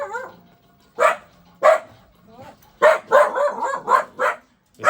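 A dog in a hillside village in Idukki barks close by in short loud bursts, a few spaced single barks followed by a quicker run of barks, with softer whimpering sounds between.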